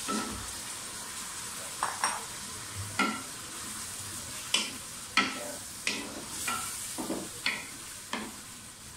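Potatoes and ginger-garlic paste fry with browned onions for aloo matar pulao, a soft steady sizzle under repeated sharp scrapes and clinks of a spoon against the pot, with no talk.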